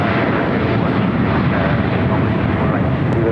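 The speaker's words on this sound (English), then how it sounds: "here goes the flight to Haneda" A departing airliner bound for Haneda roars at LAX, a loud, steady jet engine rumble filling the whole stretch.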